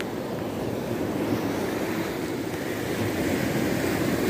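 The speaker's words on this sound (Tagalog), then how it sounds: "Napakaganda po ng dagat dito po sa tabing dagat natin mga kaibigan" Sea waves wash steadily onto Al Hail Beach in Muscat, Oman, around late afternoon, a broad continuous roar with wind noise buffeting the microphone, no voices.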